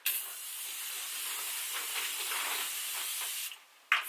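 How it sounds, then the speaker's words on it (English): Morphe Continuous setting spray misted onto a face as one close, steady hiss lasting about three and a half seconds, then a short second spritz. "We're gonna go in with this Morphe continuous spray and just set our face."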